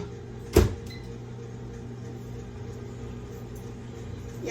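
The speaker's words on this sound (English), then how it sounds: "I'm just going to put all of this in the microwave for a few seconds." A microwave oven remelting butter starts with a sharp click, then settles into a steady low electrical hum that runs on evenly and fairly quietly to the end.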